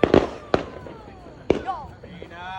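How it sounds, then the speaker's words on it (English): Fourth of July fireworks go off in three sharp booming bursts, the first a quick double crack, with crackling and whistling trails after. Voices talk and exclaim faintly in the background. "It was fireworks over there."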